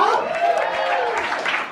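A comedy show audience claps and cheers for a performer in a short, steady burst of crowd applause with some voices mixed in.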